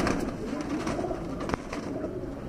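Golden Kasoori pigeons cooing softly at a pigeon sale in Lahore, a low, steady murmur of coos at close range over faint background noise.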